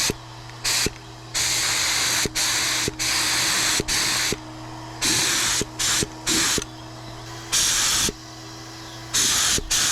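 A Fuji Q5 spray gun paints motorcycle engine parts with loud, close hissing bursts of spray, each lasting about a second, separated by short pauses, over a steady low hum.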